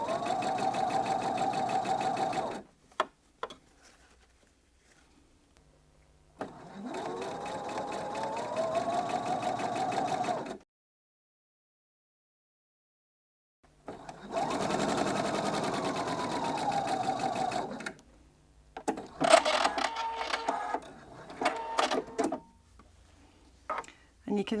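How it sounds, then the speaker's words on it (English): A sewing machine stitches piping onto dressmaking binding in several sustained runs of steady motor hum separated by pauses, with handling clicks toward the end and a voice talking at times. "just keep making sure those raw edges line up and stitch your way to the end of the"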